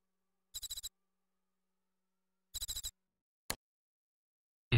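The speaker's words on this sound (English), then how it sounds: "Birds are chirping!" Short synthetic bird-chirp bursts from the video game Hot Shots Golf 3 sound twice in quick trills, separated by silence, followed by a single click and another brief sound.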